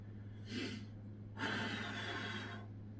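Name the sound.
deep breathing during an elbow plank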